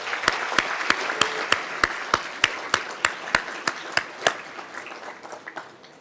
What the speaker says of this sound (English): let's acknowledge their accomplishments with a round of applause